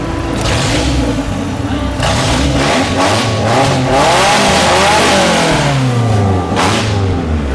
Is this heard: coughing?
no